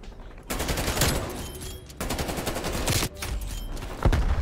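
Rapid automatic gunfire in the video game Call of Duty: Black Ops Cold War, with loud sustained bursts broken by brief pauses.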